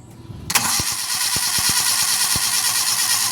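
A Suzuki Carry 1.0 starter cranks briefly before the engine catches at about half a second, then settles into a loud, steady running rumble with sharp periodic ticks, close by and with no talk.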